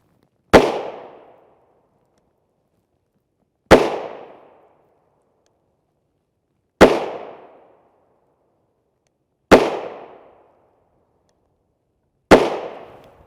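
Five sharp gunshots from a PSA Rock 5.7x28mm pistol with a 5.2-inch barrel, firing Speer Gold Dot 40-grain hollow points, ring out alone at an even pace of about one every three seconds, each with a short decaying echo.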